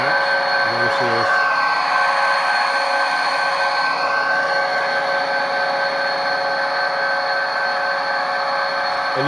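An HO Kato model locomotive's sound decoder plays at full throttle through a Lok speaker kit, giving a continuous synthetic diesel drone with a brief horn-like tonal burst near the start.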